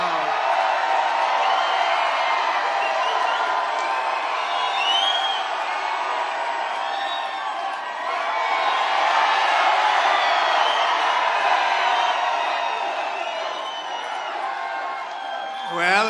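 A large political rally crowd in Claremont, New Hampshire, cheering and whooping in a sustained, loud roar that swells and dips across the whole stretch.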